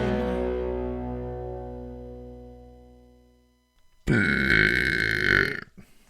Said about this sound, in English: Gonna leave that burp in there?